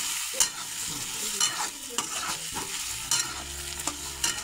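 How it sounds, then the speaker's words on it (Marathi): Vegetables with coriander sauté in a pan, stirred with a spoon: soft steady sizzling broken by close, irregular scraping and knocking strokes, no talking. "दोन 3 मिनिटं चांगलं असं परतू घ्यायचं"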